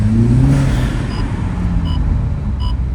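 A Toyota GR Supra 2.0 fitted with an aFe Takeda intake revs close by, a loud engine surge rising then falling back to a steady drone, with faint electronic beeps.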